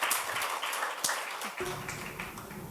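Applause from the audience at an arts awards ceremony, a dense patter of clapping heard briefly, with a low hum rising underneath partway through.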